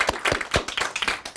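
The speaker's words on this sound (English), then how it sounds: "I'd like to hear a big round of applause for yourselves" A handful of distinct, uneven hand claps from a small group at an elementary school derby match, brief and fairly close.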